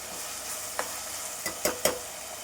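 Turkey berries (sundakkai) sauté in a pan for a vatha kuzhambu. A steady close sizzle runs throughout, with a few sharp stirring scrapes near the end.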